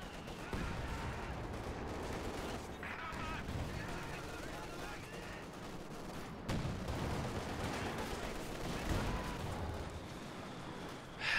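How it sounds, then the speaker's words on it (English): Indirect fire from Katyusha rockets and mortars in a video game battle, a continuous faint rumble of distant launches and impacts with a few sharper thuds, steady throughout. "It's gonna be a lot of indirect fire for him. The mortar and the Katusha together."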